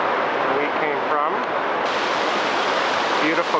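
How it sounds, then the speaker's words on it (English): A mountain creek, Convict Creek, flowing on a backpacking trail: a steady, full rushing of water up close, loud and continuous without pause. "Beautiful creek."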